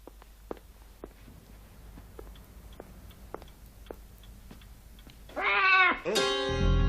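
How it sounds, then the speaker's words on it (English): A cat meows twice, loud and close, in drawn-out rising and falling cries near the end, after several seconds of quiet room tone with a faint, regular clock-like ticking. "I didn't know you had a cat."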